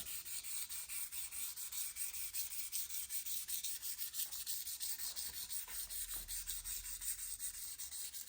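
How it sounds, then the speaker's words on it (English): 400-grit sandpaper rubs back and forth along a guitar neck in quick, steady strokes, a soft rhythmic scratching heard close up with no voices. "now I'm just going to give the neck a sand with 400 grit paper"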